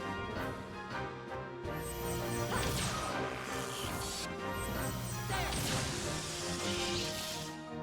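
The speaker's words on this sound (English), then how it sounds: "the boost sound effect is like a Star Wars blaster sound effect" Video game Xenosaga Episode 1 battle audio with a boost sound effect resembling a sci-fi blaster, set among sharp crashing hits and swooshes over layered music, fairly quiet overall.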